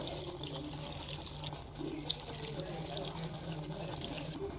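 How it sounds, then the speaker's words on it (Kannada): Water poured from a glass into a pressure cooker holding lentils, arave greens and rock salt: a steady, fairly soft rushing pour that runs unbroken for several seconds. "ನೋಡಿ, 2 ಗ್ಲಾಸ್ ನೀರು ಹಾಕ್ಕೊಳ್ಳೋಣ."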